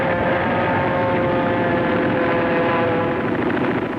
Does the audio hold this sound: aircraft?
yes